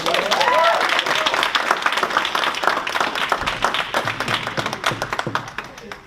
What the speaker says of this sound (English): Give a round of applause these days, please.